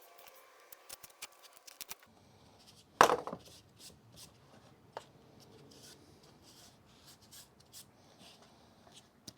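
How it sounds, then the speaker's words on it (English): A utility knife scores and cuts slots along the edge of a plywood sheet, giving scattered light scraping and scratching strokes, then one sharp louder crack or snap, followed by softer intermittent rasping. "Now we're going to cut out our slots. A utility knife will work just fine."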